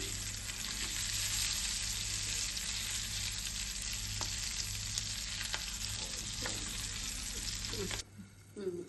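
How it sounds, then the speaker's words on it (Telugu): Stuffed chillies frying in a pan give a steady, close, dense sizzle that holds for about eight seconds, then cuts off sharply, leaving quieter clatter. "ఇంకా బాగా ఫ్రై అయినాయండి."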